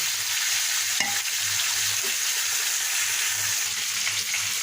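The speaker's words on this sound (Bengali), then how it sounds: "পেঁয়াজ রসুন এবং পাঁচফোড়ন দিয়েছিলাম ভাজা হয়ে গেছে" Onion, garlic and panch phoron frying in oil as a tempering for masoor dal, giving a steady close sizzle with occasional stirring scrapes throughout.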